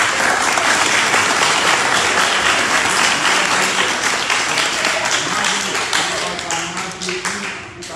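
Dense, steady applause from a large crowd fills the room, then gradually tapers off toward the end.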